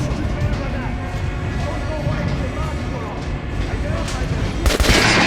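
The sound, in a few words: gunshots at armored dummy in Metro Last Light video game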